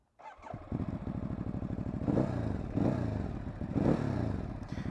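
Loud, grunty exhaust from a 2019 Ducati Hypermotard motorcycle running steadily near the recorder, rising in three distinct revving surges under throttle, with no talking.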